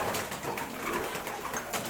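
A racing pigeon held in the hand gives soft, low cooing over a noisy background, faint and close.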